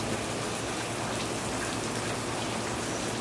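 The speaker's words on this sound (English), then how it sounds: "Raining pretty good right now." Steady rain pours down outside a garage during an auto parts teardown, a dense, even hiss of drops on surfaces that holds at a constant level without pause.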